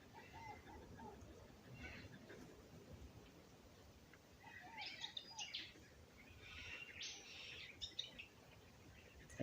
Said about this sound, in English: I just thought I'd be still so I could hear the birds and all that.